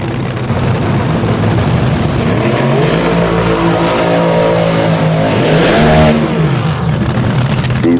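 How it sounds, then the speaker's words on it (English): Top fuel dragster with a late model Hemi doing a burnout, the engine roaring loud and close, then revving hard to high RPM, with rising and falling harmonic sweeps through the middle. "Tyler Hilton did that burnout. That baby zinged RPM pretty high there."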